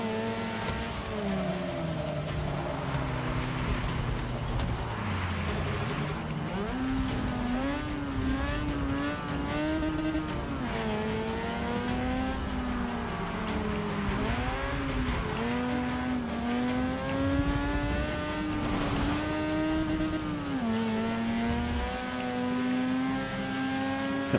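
A car engine in Forza Motorsport 6 revs hard and continuously at maximum revs, its pitch climbing and dropping through gear changes, loud and close with a synthetic video-game tone.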